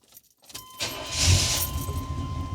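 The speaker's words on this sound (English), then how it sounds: "and turn on our car" Keys jangle in the ignition of a 1985 Chevrolet C10 square-body pickup, then the engine cranks and catches, settling into a steady idle up close.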